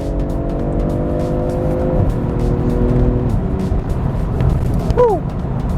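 BMW M340i accelerating in Sport Plus mode, a loud engine drone holding steady pitches with brief drops at gear changes, heard from inside the car with road rumble and a short rising chirp near the end.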